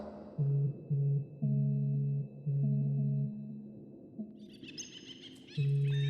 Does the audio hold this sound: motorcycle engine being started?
no